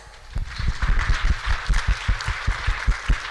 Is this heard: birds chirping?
no